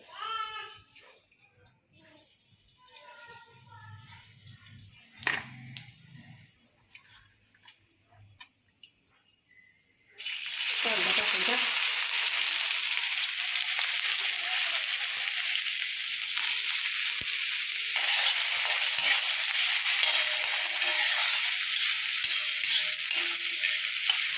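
After a quiet stretch with faint movements, cumin hits hot oil in an iron pan and a loud sizzle erupts, then crackles on steadily.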